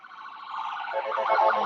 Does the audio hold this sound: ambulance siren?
yes